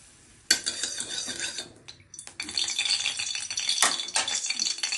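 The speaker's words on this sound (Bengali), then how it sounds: "এখন সাদা তেল দিয়ে বেগুনগুলোকে ভেজে নেব" Eggplant frying in white oil in a wok, with a sudden onset of broadband sizzling and clattering stirring that dips briefly, then returns louder and continues steadily, close by.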